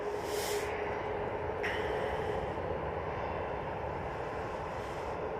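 TUI Boeing 737-800 at Manchester Airport, a faint distant steady engine rumble and hiss with a couple of brief higher whooshes.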